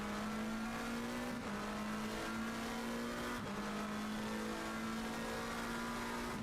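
A GT3 race car in Assetto Corsa Competizione at Zandvoort drones at steady high revs, its engine tone climbing through gears with brief dips at upshifts, loud and continuous with a faint tire squeal edge.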